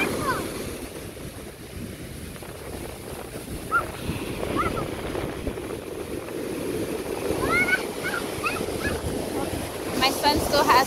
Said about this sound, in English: It's high waves.